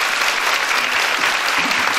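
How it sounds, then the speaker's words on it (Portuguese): A church congregation in Volta Redonda applauds Jesus at a worship service with loud, dense, steady clapping that fills the room evenly throughout, with no voices standing out. "Vamos aplaudir Jesus?"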